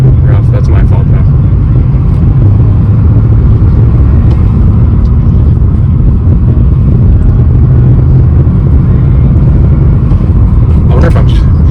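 A 2004 Pontiac GTO is driven on the road, heard from inside the cabin as a constant, loud low engine and road drone with little variation.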